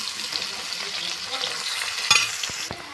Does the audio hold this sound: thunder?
no